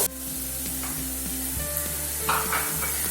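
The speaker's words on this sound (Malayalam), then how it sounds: "സവാള മുഴുവൻ നന്നായി വഴറ്റി വന്നിട്ടുണ്ട്." Onions sautéing in a pan for a chicken curry, with a steady close sizzle, a low continuous hum underneath and a few light stirring scrapes, no talking.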